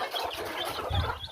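Hens and small chicks on a backyard poultry farm, clucking and peeping in a busy, continuous mix close by, with a slightly louder cluck near the end.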